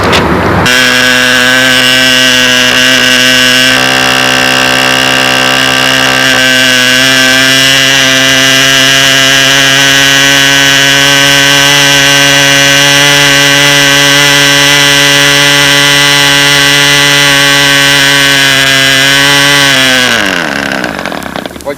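A Jett 50 model airplane engine fitted with a muffler screams at wide open throttle, a loud, steady high-pitched buzz holding for about twenty seconds before dropping off abruptly at cutoff.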